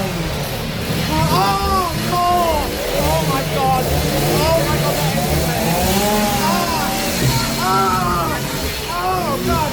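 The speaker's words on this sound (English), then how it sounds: "Never seen so many chainsaws in one maze." Chainsaws rev and drone steadily in a crowded theme-park scare maze, with frequent screams and yelling voices rising over the continuous engine buzz.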